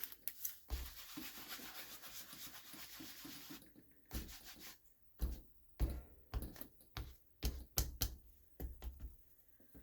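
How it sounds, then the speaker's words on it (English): Ink rubbed over the recessed side of a craft card, with dense continuous scratchy rubbing at first, then quieter scattered strokes and taps, all close and faint. "And this is the part that's recessed. And I'm going to rub all over it."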